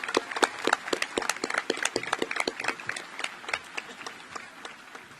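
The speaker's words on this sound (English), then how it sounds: "Please give our district leaders and members of our school board a round of applause." Graduation audience applauding district leaders and school board members at a high school ceremony: scattered, moderately loud hand claps from a modest crowd over five seconds, steady rather than thunderous.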